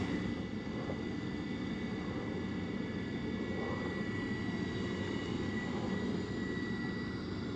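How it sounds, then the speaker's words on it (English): A noisy older draft inducer motor on a furnace that is not heating runs continuously, a dense, even roar with a faint steady whine on top and no pauses. "That inducer is friggin' noisy."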